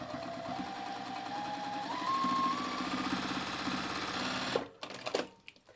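A sewing machine stitches over quilting fabric at a small stitch length, with a close, continuous rapid mechanical whir that rises slightly in speed, then stops abruptly and gives way to a few clicks and handling noises.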